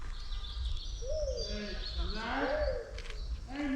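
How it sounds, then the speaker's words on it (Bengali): A bird calls in the Lepcha forest, a faint, wavering call over soft background noise, with people talking close by. "কি একটা পাখি ডাকছে, বিনা শুনতে পাচ্ছিস?"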